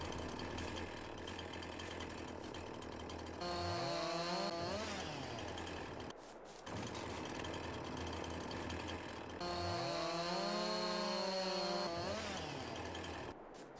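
A chainsaw in Farming Simulator 22 cuts down small trees, revving up twice into loud whining cuts between stretches of rough idling, with tractor engine drone underneath and no speech.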